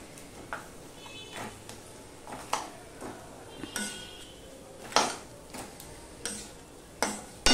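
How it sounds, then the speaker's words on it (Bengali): Spatula scraping and clinking in a pan as fried fish heads are stirred into a spice mix for a papaya curry, a string of sharp, irregular metallic knocks and scrapes close by, with no talk. "দেখো মশলার সাথে সম্পূর্ণটা মিশিয়ে নিয়ে আমি এবার দিয়ে দিচ্ছি মাছের মাথাগুলো ভেজে রাখা"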